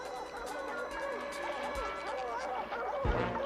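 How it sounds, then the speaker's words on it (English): Dogs bark and yip in the distance, a few faint, scattered calls heard under a swamp search scene with soft background noise. "I can hear the dogs."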